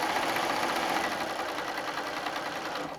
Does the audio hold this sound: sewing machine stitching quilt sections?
yes